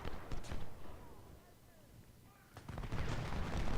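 Bursts of musket and artillery fire on an Ultimate General: Civil War battlefield, loud cracks at the start and a heavier rolling volley near the end, with a quieter stretch between and a voice speaking.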